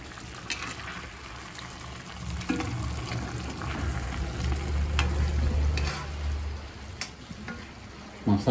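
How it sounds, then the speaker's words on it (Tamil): Squid fry with masala sizzles in a pan as it is stirred, a close, steady bubbling and frying hiss broken by scraping spoon strokes and occasional sharp pops. "எல்லாத்தையும் போட்டு நல்லா கிளறி டேஸ்ட் பண்ணலாம்."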